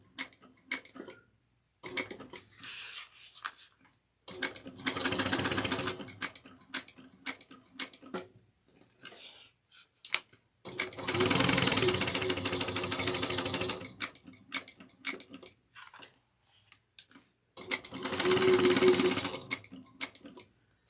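A sewing machine runs three separate bursts of rapid, even stitching on a woven tote, with quiet pauses and small clicks of handling between the runs.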